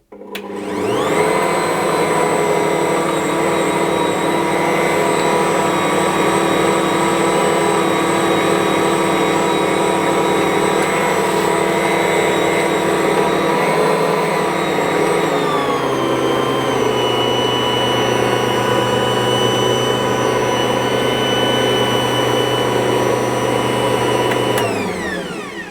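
Ankarsrum stand mixer kneading cinnamon bun dough, a loud continuous motor whine with steady tonal hum throughout, pitch dropping slightly midway as the speed changes, heard alone without talk.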